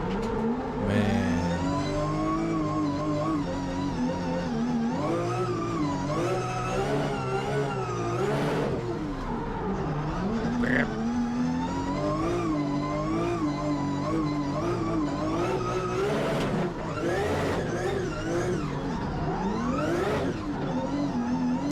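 A 1000-horsepower drift car engine revs hard and continuously, pitch swooping up and down as it accelerates and drifts, loud and close throughout.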